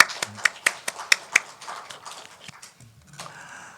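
Church congregation clapping to welcome a new member during a Sunday service, a sparse run of distinct claps in a loose rhythm that thins out and fades, with faint voices underneath.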